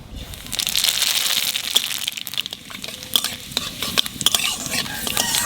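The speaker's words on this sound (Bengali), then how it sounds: "তেলের পর দিয়ে দেবো রাঁধুনি আর তেজপাতা" Radhuni seeds and bay leaves sizzle in hot oil in a pan, a bright crackling fry close up, broken by sharp clinks and scrapes of a spoon stirring.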